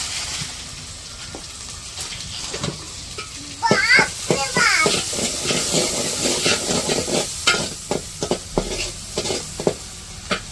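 Cumin seeds, chopped garlic and onion sizzle and spit in hot oil in a home kitchen, a steady loud frying hiss with clinks of a stirring utensil and brief voices over it.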